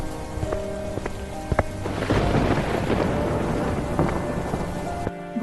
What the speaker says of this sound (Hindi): तभी आसमान में बहुत तेज हवाएं चलने लगती हैं और बिजली के साथ बारिश भी शुरू हो जाती है।